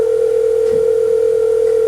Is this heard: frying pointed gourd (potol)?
no